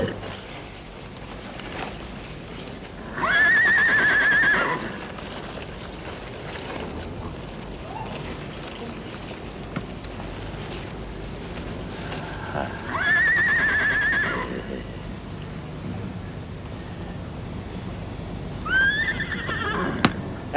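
A horse neighs twice, loud and close, with a shorter third whinny near the end, over a steady backdrop of faint hoof clops and low ambient noise in a 1960s Victorian-era rural drama setting.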